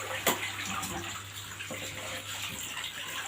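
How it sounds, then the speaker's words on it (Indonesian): Water splashes and pours steadily over a motorcycle helmet visor being rinsed by hand, a continuous close wash with a few sharper splashes near the start and no talking. "kita kacanya proses pencucian kaca kita siram dulu"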